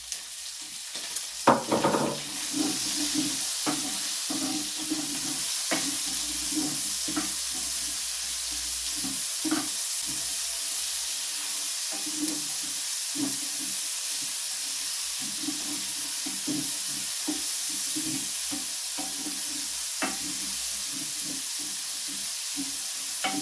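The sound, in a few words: onions frying with pork in a pan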